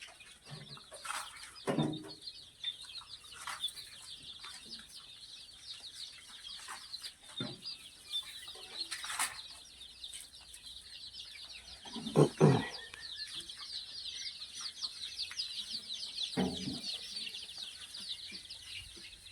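Vanaraja chickens on a native poultry farm housing around 500 birds cluck faintly and intermittently, with scattered sharper calls over a steady high chirping backdrop.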